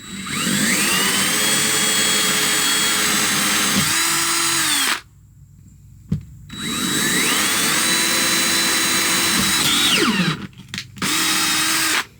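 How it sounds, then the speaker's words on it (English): A power drill boring a hole for an auxiliary charging port on a Yamaha 242X boat, whining loud and steady for about five seconds. It stops briefly, then drills again in a second long run that trails into short bursts. "I gotta drill a hole for this now"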